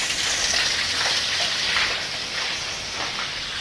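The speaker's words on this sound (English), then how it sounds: "Somewhere is pouring in here." Water pouring steadily inside an abandoned prison building, a constant broad rushing wash that holds level throughout with no talk over it.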